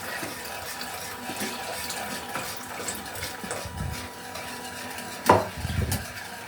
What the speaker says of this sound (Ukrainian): виливаємо наш пудинг, розмішаємо